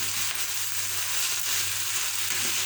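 Saltfish fries in a pan with a steady, close sizzle and crackle that holds constant throughout, under a low electrical hum.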